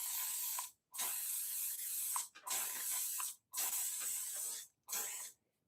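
Cheap aerosol hairspray misted onto pencil artwork, five long hissing bursts separated by brief pauses, close and steady, with no talking.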